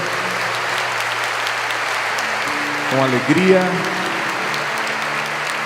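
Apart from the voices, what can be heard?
congregation applauding in church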